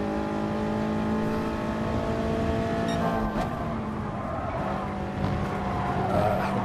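A Toyota 86 Gr. 4 race car at Brands Hatch in GT Sport oversteers, and its tires squeal steadily over the droning engine, loud and sustained with no talk.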